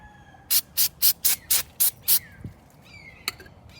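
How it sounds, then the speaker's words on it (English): Seven short, sharp hisses of brake cleaner spray onto an ATV wheel hub in quick, even succession, close and bright, followed by a faint clink and one last brief spurt. "I'm just gonna spray a little bit of brake cleaner on it right now"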